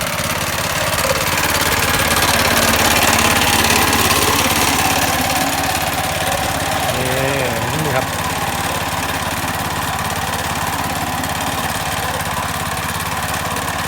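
A small engine runs at a steady chugging idle, loud and close, with a voice talking over it.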